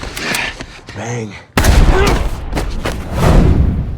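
Loud bursts of heavy gunfire in a film action scene, with a sudden booming onset followed by sustained crackling shots and thumps, mixed over dramatic music and noise.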